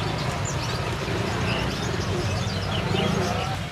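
Busy songbird chatter at a roadside bird stall in Indonesia, with chirps and coos from several birds at once, over a steady low hum of background noise.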